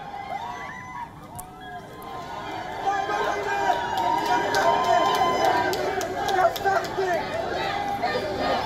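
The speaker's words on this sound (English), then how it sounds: "The video on your screens shows the angry crowd throwing water bottles at her." Angry protest crowd in Beirut, a dense mass of shouting and chatter rising and holding steady, with scattered sharp bangs and thuds as bottles are thrown; close and continuous throughout.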